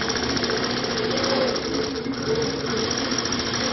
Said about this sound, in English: Here it's stitching back over itself a bit to make those little feather spines.